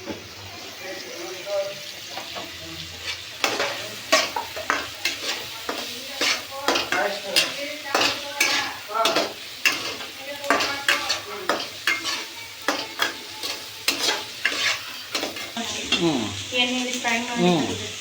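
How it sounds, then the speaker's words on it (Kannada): Capsicum fries in oil while a spoon stirs it, producing a steady sizzle broken by frequent rhythmic scraping clinks against the pan, close and moderately loud with no talk. "ಎಣ್ಣೆಯಲ್ಲಿ ಫ್ರೈ ಮಾಡಿ"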